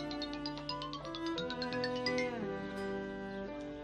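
A mobile phone ringtone plays a bright, repeating electronic melody, steady and clear for several seconds with no talking over it.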